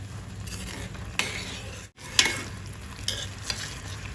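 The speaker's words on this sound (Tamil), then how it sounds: "ஒரு கொதி வரவும் நம்ம ஃப்ரை பண்ணி வச்சுருக்கிற கேப்சிகத்தை சேர்த்துக்கலாம்." Fried capsicum being stirred into boiling gravy in a pan makes soft scraping and a low bubbling sizzle, with a few light clinks of the spoon against the pan.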